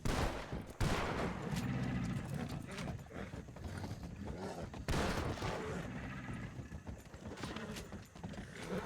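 Gunshots crack out amid a busy, noisy scene, with a couple of sharp loud reports standing out over a dense background mix that may include hooves, and faint voices underneath.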